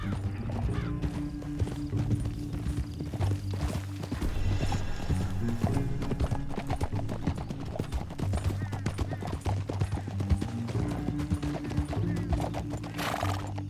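Steady clip-clop of horse hooves at a gallop in the video game Red Dead Redemption 2 runs throughout, with occasional whinnies and snorts, and some faint talk mixed in.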